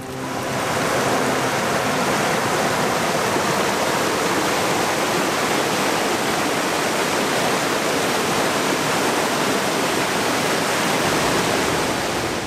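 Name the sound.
waterfall, Ragged Falls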